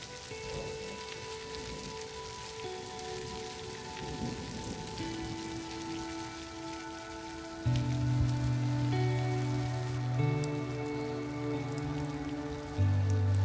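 Steady rain patters over a truck camp, a continuous wash of drops interrupted by louder bursts and tonal drips on a surface, with no talk.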